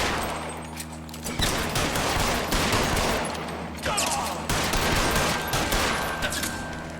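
Gunfire in the video game L.A. Noire, including revolver shots, as a dense fusillade of loud, overlapping shots with sustained rattling bursts and echo.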